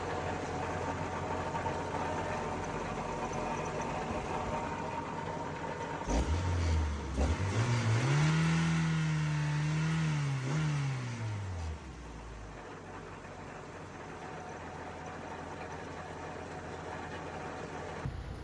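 An Acura Integra engine heard up close, idling steadily, then revving once with a rising and falling sweep before settling back to a smooth idle.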